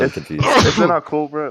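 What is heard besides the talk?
sneeze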